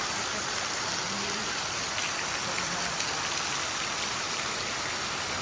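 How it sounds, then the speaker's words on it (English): Heavy rain pours steadily over rainforest by the Essequibo River in Guyana, a continuous dense hiss of drops on surfaces, fairly loud and unbroken, with no talking. "This is a good 20 minutes rain"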